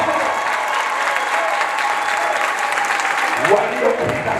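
A church congregation bursts into dense, steady clapping that fills the space and holds throughout, with a voice rising faintly near the end.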